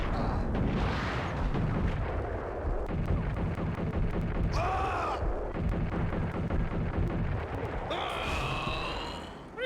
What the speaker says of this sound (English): What damn grenades that dude have?